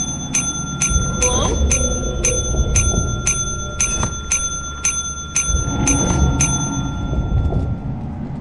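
A bell rings in a rapid, even series of about a dozen bright metallic dings inside a dark, rumbling game environment, loud and close, with a low murmur beneath.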